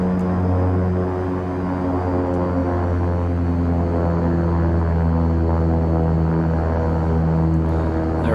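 Simulated King Air 350 twin turboprop engines settle to low idle in X-Plane 11, a loud, steady propeller drone with layered harmonic hum holding constant throughout.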